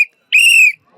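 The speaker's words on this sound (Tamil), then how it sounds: "அந்த விசில் இப்ப ஊதப்பட்டது." A single sharp, high whistle blast at a political party office celebration, short and loud, preceded by a brief faint chirp and followed by quiet.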